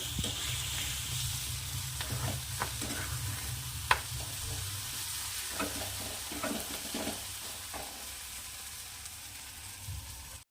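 Fenugreek leaves for dal methi bhaji are stirred and fried with chilli masala, producing a steady, moderate sizzle with intermittent spatula scrapes and one sharp knock, fading slightly toward the end, with no talk.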